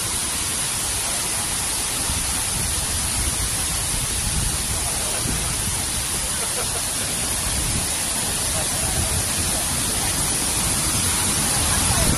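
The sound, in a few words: waterfall in Taiwan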